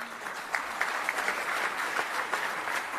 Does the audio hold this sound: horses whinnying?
no